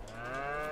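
Cows moo steadily inside a barn in Landwirtschafts-Simulator 22, a sustained, close bovine call with no talking over it.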